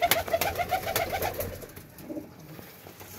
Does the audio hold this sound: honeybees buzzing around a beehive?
no